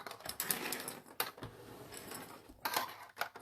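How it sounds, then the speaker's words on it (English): A sewing machine top-stitching faux leather for a key holder and fob runs in short mechanical bursts with brief pauses between them, fairly faint and close, with no voices. "we're going to sew from here all the way up to the top, and the same on the other side"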